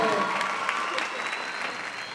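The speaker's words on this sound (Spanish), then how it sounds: "El aplauso para él también." An audience at La Voz de Zapopan, a singing contest held at Conjunto Santander, gives a short burst of applause for the trophy artist, steady clapping fading slightly while a voice speaks over it.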